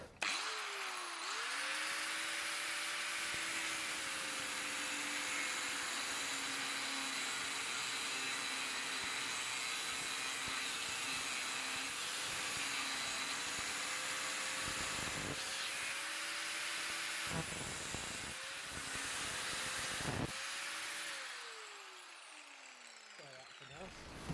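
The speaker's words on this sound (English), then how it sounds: "I'm going to cut this fitting down, make it a bit smaller." A power tool cuts a metal fitting down to size in a workshop, a loud continuous whining drone with a gently wavering pitch that is broken by a few short pauses near the end before it winds down.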